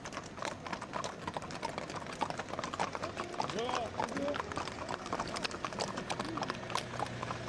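Hooves of a gendarmerie mounted patrol clip-clopping on a tour through the tribe of Naketi, a steady uneven rhythm of several horses under a voice speaking.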